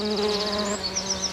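Wasps buzz close by in a steady, loud, droning hum that wavers slightly in pitch, with no voices.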